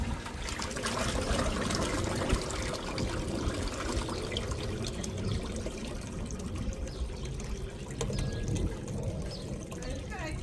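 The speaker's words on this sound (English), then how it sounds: "Customer's just flushed the toilet." A slow toilet flush at a house with a blocked drain, a continuous loud rush and gurgle of water flowing steadily, with people talking over it.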